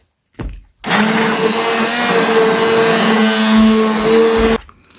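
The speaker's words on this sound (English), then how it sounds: "So I'm going to be mixing everything together with my hand mixer" A hand mixer whirs steadily while blending skin-lightening lotion ingredients, switching on after a brief clatter and running at a constant loud motor pitch for about four seconds before cutting off abruptly.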